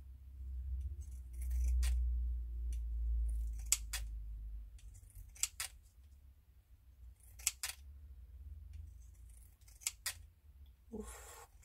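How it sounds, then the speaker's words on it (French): Scissors snip tulle around a handmade fabric flower, a series of sharp, close, quiet cuts spaced a second or two apart over a low background hum. "je vais venir couper comme ceci tout autour."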